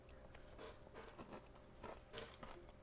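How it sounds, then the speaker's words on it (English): Someone bites and chews honey joys, a honey-coated cornflake snack, with soft, close crunching and crackling in quiet, irregular bites. "These honey joys are awesome. It literally is the best way to eat cornflakes."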